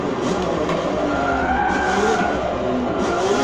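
A prototype race car in Forza Motorsport 7 slides out of control, with a steady engine roar and a drawn-out tire squeal that rises and falls over the full length.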